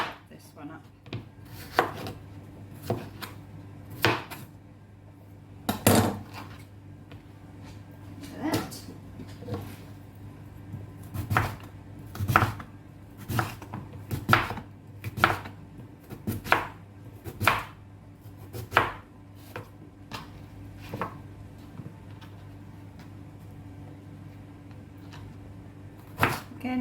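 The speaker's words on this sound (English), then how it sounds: "It's a hard vegetable, so you need a bit of strength to chop this one up." A knife chops a hard parsnip on a cutting board in a home kitchen, giving sharp, separate thuds at an uneven pace that are spaced by brief pauses and continue for nearly half a minute, close and fairly quiet.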